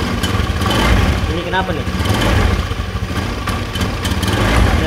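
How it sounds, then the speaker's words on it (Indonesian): A Honda Beat FI scooter engine runs at a rough, sputtering idle, uneven and stuttering close by, while someone speaks over it. "Oke, ini motor nyala ya. Nah, ini tapi motor agak berbet-berbet gitu ya."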